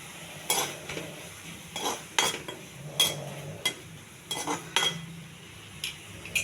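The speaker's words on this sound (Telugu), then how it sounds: "ఇవి కూడా కొంచెం దోరగా వేగాలి." Ingredients stirred and fried in a pan with tomato juice and a little salt for coconut putnala chutney: irregular clinks and scrapes of a spoon against the pan over a faint sizzle, close and moderately quiet, no talk.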